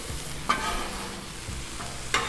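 Chorizo fries on a Blackstone griddle as its fat renders, giving a steady close-up sizzle. Two sharp spatula scrapes mark the stirring.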